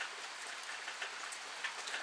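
Steady rainfall pattering outdoors, a soft, even hiss of drops on surfaces, fairly faint and continuous with no voices over it.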